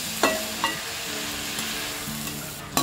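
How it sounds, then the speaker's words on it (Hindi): Radish leaves frying in a pan over medium flame for a chutney, with a loud, close, steady sizzle and a few sharp spatula clicks and scrapes. "पत्तों को भी हम 5 मिनट तक फ्राई कर लेंगे"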